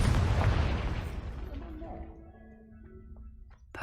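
A Confringo fire spell in Hogwarts Legacy goes off as a heavy booming blast with a deep rumble that decays over a few seconds, then fades into quieter game ambience.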